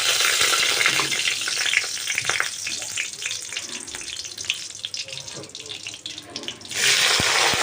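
Seeded capsicums hit a pan of fried cumin seeds with a steady, loud hiss of frying, the sizzle surging sharply near the end.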